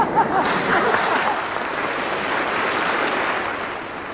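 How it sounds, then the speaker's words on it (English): Audience applause following a Schumann song from Frauenliebe und Leben at a 1980 singing masterclass in Edinburgh, a steady, even wash of many hands clapping throughout with no voices over it. "Applause for Christine Cairns after that song from Schumann's Frauenliebe und Leben."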